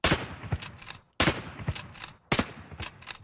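Three sharp gunshots from a Civil War-era Henry lever-action rifle, each a loud, close crack with a short ringing decay, spaced about a second apart.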